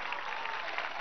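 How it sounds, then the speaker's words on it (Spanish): A crowd at an outdoor political rally in Plaza Bolívar claps in a brief, dense burst of applause, moderately faint and without speech. "Vamos a darle un gran aplauso a su espíritu"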